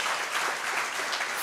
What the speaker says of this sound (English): Can we just clap and love on them